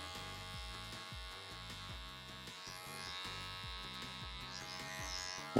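Electric hair clippers buzz steadily while cutting curly hair for a high fade, a close, even motor hum with rhythmic dips as the blade passes through the hair, no voices.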